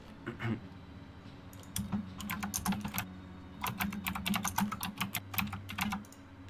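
Rapid typing on a computer keyboard, close and crisp, with bursts of clicky keystrokes in uneven runs over a low background hum.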